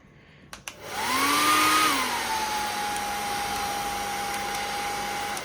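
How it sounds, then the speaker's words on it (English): After a couple of clicks, a Remington hair dryer in a hotel room switches on and runs with a steady high-pitched whine and rushing air, close by. "the hairdryer is Remington"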